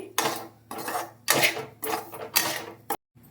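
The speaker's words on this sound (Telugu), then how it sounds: "రవ్వ కానీ వేయించుకుందాం సిమ్లో పెట్టుకొని వేయించుకోవాలండి" Semolina (rava) being dry-roasted in a pan on a low flame for jaggery rava laddu, heard as a close series of scraping, clinking strokes of a utensil against the pan, each lasting under a second, with no talking.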